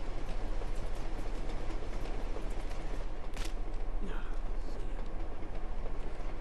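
Moving train in the video game Uncharted 2, a steady loud rumble with rolling rail clatter throughout, a brief sharp burst near the middle, and a voice talking briefly.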